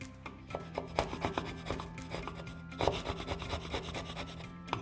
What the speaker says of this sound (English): I can get myself out a nice little chisel and I can scrape them out